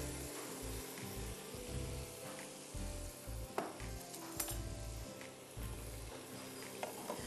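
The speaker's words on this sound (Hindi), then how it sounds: "विस्क का इस्तेमाल करना है ताकि जो आपका सॉस है वो अच्छी तरह लंप फ्री हो जाए।" Butter and flour sauce for lasagna being worked in a pan, with a soft steady sizzle and rhythmic scraping and whisking strokes against the pan, close and fairly quiet.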